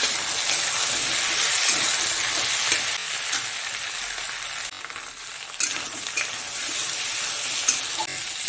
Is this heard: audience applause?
no